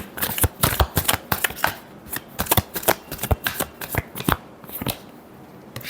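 Tarot cards being shuffled by hand: a rapid run of crisp, close riffling flicks and slaps in uneven bursts, with no talk over them.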